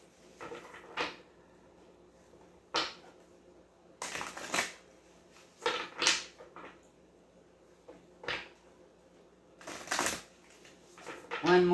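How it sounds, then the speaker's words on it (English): Tarot cards shuffled by hand at close range, several separate riffling bursts and soft slaps spaced a second or two apart, with quiet pauses between them. "One more shuffle and we'll cut them."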